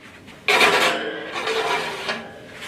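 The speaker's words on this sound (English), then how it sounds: "back in the oven they go" A baking pan of stirred, glazed love-bird rolls with raisins slides back into a home oven, giving a sudden loud scraping clatter of metal on the rack followed by softer rattling and a final clunk as the door area settles.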